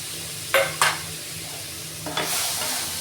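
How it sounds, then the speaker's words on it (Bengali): Grated carrot frying in ghee in a pan for carrot halwa: a soft ongoing sizzle broken by a couple of quick stirring scrapes, then a louder, fuller hiss as the carrot is turned. "ঘিয়ের মধ্যে গাজরটাকে একটু ভাজা ভাজা করে নিতে হবে"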